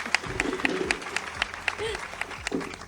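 Scattered clapping from a live audience at a panel event in Argentina, bursts of applause rising and falling over about three seconds, mixed with nearby voices talking.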